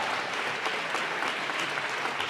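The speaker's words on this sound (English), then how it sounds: "Let's give him one more round of applause" Audience applause for the governor after a State of the State address, an even, sustained wash of clapping from a large room, moderately distant and steady with no break.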